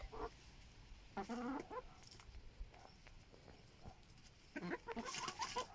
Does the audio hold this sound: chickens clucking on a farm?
yes